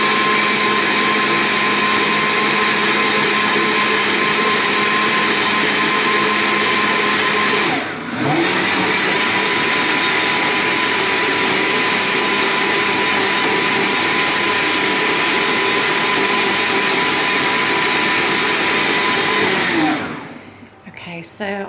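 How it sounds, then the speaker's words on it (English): A blender whirs steadily at high speed, puréeing lentil and cardamom soup, loud and continuous with one brief dip partway through before it winds down at the end. "I'll do this for a couple more minutes just to make sure it's well blended"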